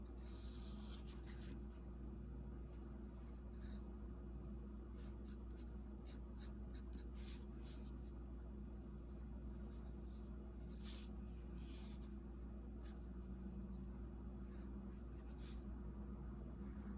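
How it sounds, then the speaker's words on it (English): A pen draws on a surface, making faint, intermittent scratchy strokes with short pauses, close and quiet over a steady low hum, with no talking. "Maybe I'll draw on here."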